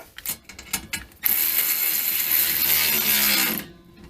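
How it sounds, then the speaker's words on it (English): A ratchet tightens the rear running board mounting bolts on a Chevy 2500HD pickup: a few short clicking bursts at the start, then one long, loud, steady run of rapid ratchet clicks lasting a couple of seconds before stopping. "I'm tightening down the very 2 back bolts."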